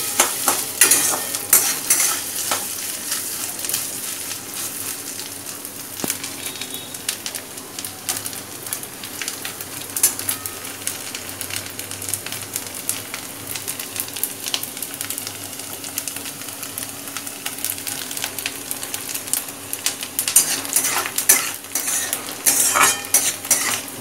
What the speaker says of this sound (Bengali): এটা খুব কড়া করে ভাজার দরকার নেই একটু লালচে হলেই আমি এটাকে নামিয়ে নেবো